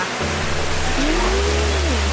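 A waterfall at the front of a pet-friendly cafe pours steadily, a loud, close, broadband rushing roar that stays constant throughout.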